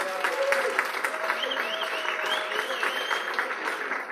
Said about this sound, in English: So please, big applause for Mireia.